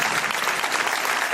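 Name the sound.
applause for studio guest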